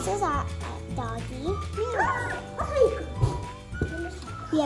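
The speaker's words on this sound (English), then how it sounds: "This is our doggy." A pet dog at home whines and yips in short, pitch-bending cries close by, mixed with people's voices talking around it.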